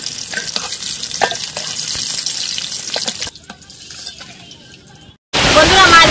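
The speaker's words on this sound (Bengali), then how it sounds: "বন্ধুরা, এবারে আমি একে একে মাছগুলো ভেজে নেব।" Fish frying in mustard oil in a wok: close sizzling and crackling with a few scraping stirs, cutting off abruptly before a louder burst of hissing.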